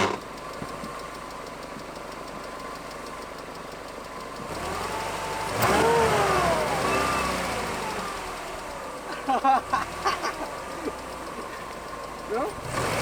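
Mercedes CLK engine cranking and catching, then idling roughly with knocking and revving, while people talk nearby.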